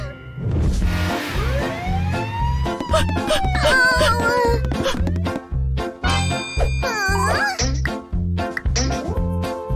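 A loud, wailing ambulance siren in a children's song sweeps up and down over a pulsing beat and musical tones.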